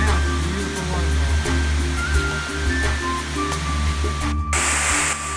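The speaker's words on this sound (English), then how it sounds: "Matter of fact, it's a brand new waterfall." Rushing water from a creek that became a new waterfall after heavy rainfall at a cabin, a steady broadband roar throughout, with a voice speaking over it.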